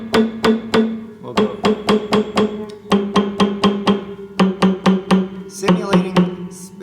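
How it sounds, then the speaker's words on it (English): On a spinet piano, a hammer strikes a muted, immobilized string hard over and over in quick, even, loud knocks, with short pauses between groups of blows. "Simulating, immobilizing the string, whacking it hard a few times, simulating basically a few hours of hard playing"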